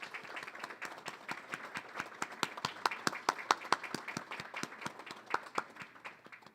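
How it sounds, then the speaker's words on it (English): A small audience applauds at a university athletic hall of fame awards ceremony, steady scattered clapping that continues for several seconds at a moderate distance, with no speech over it. "A round of applause for Steve Kimmery."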